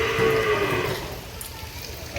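Cattle on a village farm during the monsoon give a loud, close moo that fades out within about a second, followed by quiet farmyard background.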